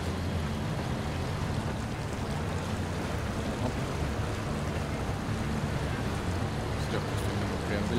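A truck fords a river in SnowRunner: a steady low engine rumble blends with constant rushing water, holding even and moderately loud throughout without clear breaks.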